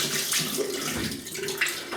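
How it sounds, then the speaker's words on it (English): Tap water runs and splashes while a hand is rinsed during a wet shave at a sink, a steady close gush with small irregular splashes. "I'm gonna rinse my hand."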